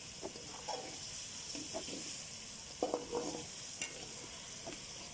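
Crushed red chilli stirred into a yogurt masala for chicken pulao: a soft steady sizzle underneath, with a series of short, moist scraping strokes from the spoon, close and fairly quiet, no talking.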